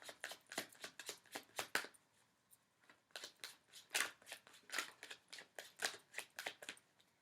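Tarot cards are shuffled in quick, rhythmic riffles, one run of crisp flicks, a short pause, then a second steady run, close and fairly quiet with no talking.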